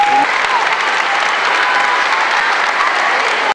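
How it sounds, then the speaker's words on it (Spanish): A large crowd at a political event gives loud, sustained applause for engineer Cipriano Charres Pedraza, an Otomí Indigenous leader: a thick, continuous roar of clapping at steady volume throughout, with faint cheers within it. "Un fuerte aplauso para el ingeniero Cipriano Charres Pedraza."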